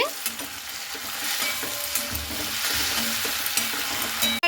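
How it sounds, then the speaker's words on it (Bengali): Sago pulao being stirred as it fries in a pan, a steady sizzle broken by repeated scraping strokes of a spoon, close and clear without speech. "হালকা করে এইভাবে আমি নাড়তে থাকবো"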